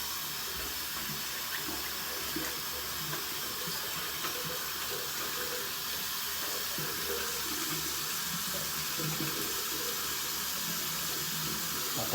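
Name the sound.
hot water running from tap into sink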